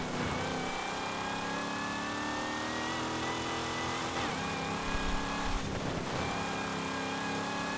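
A Dodge Coronet Super Bee muscle car in Forza Horizon 5 holds a steady, loud engine drone with rising tonal harmonics as it accelerates, a brief rougher surge midway, then continues climbing on its own without talk.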